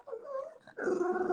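A dog whines close by in two short, high, wavering bursts, the second louder and longer, with no voices over it.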